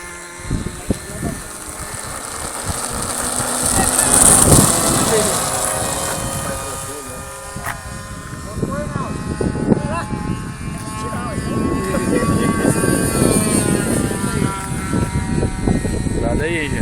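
A radio-controlled model airplane engine taking off from a runway, a high whining buzz that swells and shifts pitch as it passes, with people talking throughout.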